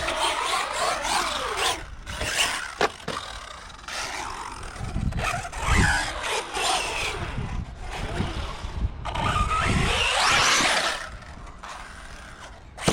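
An Arrma Typhon 6s RC car at a skate park revs its electric motor in bursts, with whining surges and rattly mechanical scraping close by and changing pitch.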